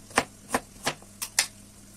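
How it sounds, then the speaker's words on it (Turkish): Five crisp knife strokes slicing through two peppers on a cutting board, evenly spaced and close, each a short sharp chop in a quiet kitchen while onions fry in olive oil. "ben de ince ince iki tane kavurucu dilimliyorum"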